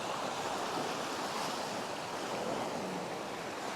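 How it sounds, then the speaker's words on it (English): Sea waves rolling in over kelp beds along a North East coast, a steady, broad wash of surf with wind buffeting the microphone throughout, no voices. "Hopefully them waves are bringing the fish in"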